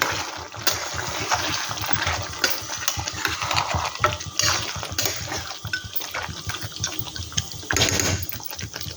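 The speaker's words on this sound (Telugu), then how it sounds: "మళ్ళీ మూత పెట్టేసి ఉడకనిస్తా కూర" A continuous bubbling, churning rumble of chicken gravy boiling vigorously under a pot lid, steady and close with irregular gurgling pulses throughout.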